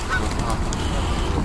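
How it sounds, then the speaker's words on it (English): Geese honking together outdoors beside the water, a dense, continuous chorus of overlapping calls that stays loud and steady from start to finish. "These geese are going, well, look at all these buggers over there."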